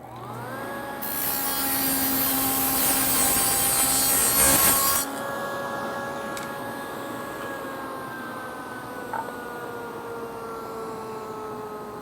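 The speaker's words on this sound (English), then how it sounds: "now I've got my dado set in place, and I'm going to adjust the height to 3/8 of an inch. And I'm going to make a test cut." A table saw fitted with a dado blade makes a test cut in wood: the motor whines steadily, a loud rough ripping roar runs for about four seconds as the board is fed, then the blade hums on and slowly winds down.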